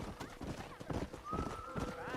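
A horse gallops and whinnies in the western video game Red Dead Redemption, with quick clip-clop hoofbeats and a rising neigh heard under a rider's urging voice.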